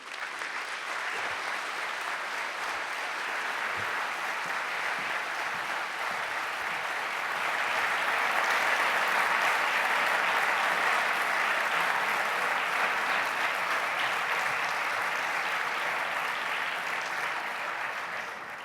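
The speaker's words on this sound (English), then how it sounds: "As you can hear that applause, you can see how much your words were appreciated." Sustained audience applause following a speech at the #InternetForTrust opening event: dense, steady clapping from a large crowd that swells to its loudest midway and holds there, with no voices over it.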